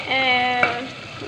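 Masala for chicken karahi biryani fries in a pan with a steady close sizzle, a brief stir or clink cutting in partway through a short stretch.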